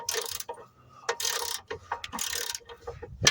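A hand ratchet loosens a 14 millimeter bolt under the chassis of a 2006 Toyota Corolla, giving bursts of rapid clicking strokes with short pauses, close and fairly loud.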